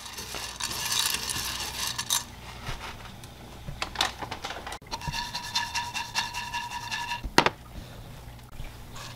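Squash seeds toast in a dry frying pan, giving a soft continuous rustling and scraping as they are stirred and shaken, with occasional light clicks and a few sharper taps.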